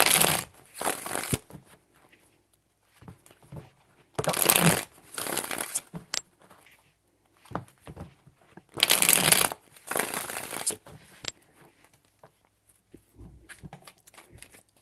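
Tarot cards are shuffled by hand close by in three separate crisp, riffling bursts, with quiet pauses between them.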